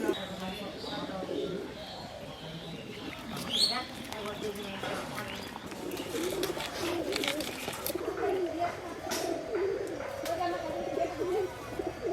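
Pigeons coo softly near an outdoor cooking area, with low repeated calls and some light chirps, while people talk over them.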